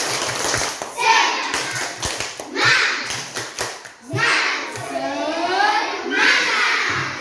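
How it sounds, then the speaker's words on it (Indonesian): A school class claps out a rhythmic spirit-clapping routine together, patterned bursts of many small hands in a room, mixed with children's voices chanting along throughout. "Tepuk semangat."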